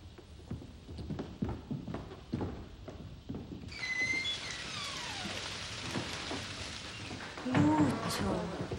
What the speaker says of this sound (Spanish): Y con esta lluvia.